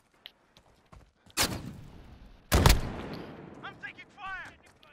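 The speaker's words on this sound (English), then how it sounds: "I'm taking fire." Two sharp bursts of video game gunfire during a 2v2 match, the second louder and longer with a rumbling tail, followed by softer clatter and chirpy effects.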